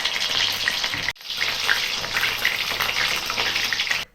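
Chicken pieces fry in oil over a lowered flame, giving a loud, close, steady sizzle that drops out briefly once before crackling on.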